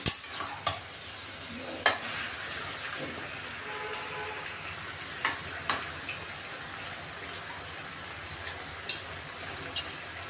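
Marinated chicken with salt, turmeric and ginger-garlic paste sizzles softly in a pan, broken by sharp spoon scrapes and clacks against the metal as it is stirred at irregular intervals.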